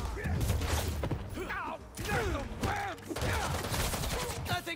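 Dense rapid gunfire from a gun club in a city, a continuous loud burst of shots and mechanical clatter layered under excited, overlapping shouting voices.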